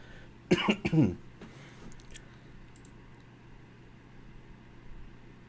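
A person's cough, a short burst of two or three close hacks near the start, then quiet room tone with no talking.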